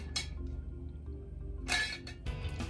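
Glasses clink together in a toast, a few sharp bright taps spaced apart over a quiet low hum, with no talking.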